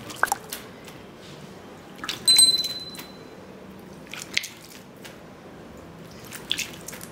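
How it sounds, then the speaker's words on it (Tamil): Water is sprinkled by hand onto a cloth while homemade sago vadagam is being made, giving faint scattered drips and soft splashes in a quiet room, with a few brief louder wet bursts. "இப்போ நம்ம தண்ணி தெளித்து தான் எடுக்க போகிறோம்"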